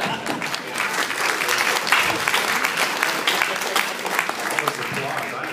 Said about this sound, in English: All this applause.